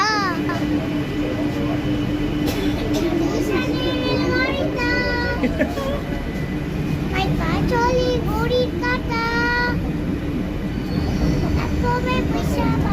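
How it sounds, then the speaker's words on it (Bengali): The steady hum and rumble of a Kolkata metro train in motion, with people talking and a voice over the noise. "প্রথমবার মেট্রো চড়তে গেছি বাবা মার সাথে"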